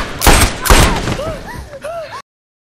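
Police gunfire in a dramatic film scene sounds as two loud, close shots, followed by ringing, whistling echoes and a third sharper crack before the sound cuts off abruptly.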